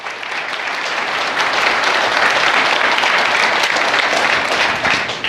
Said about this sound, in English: So once again, big round of applause.